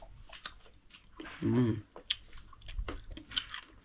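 Someone bites and chews fresh village guava outdoors, giving a few moist crunching chomps mid-clip, with voices chatting around.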